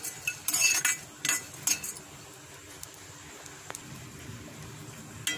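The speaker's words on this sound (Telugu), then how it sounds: "ఇప్పుడు పొద్దుతిరుగుడు గింజల్ని కూడా ఫ్రై చేసుకుందాం." Sunflower seeds being dry-fried and stirred in a pan while making a homemade Horlicks-style drink, with light clinking and scraping of a spoon against the metal in a few short bursts, then quieter stretches.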